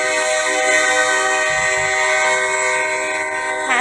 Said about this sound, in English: That's the sound of the train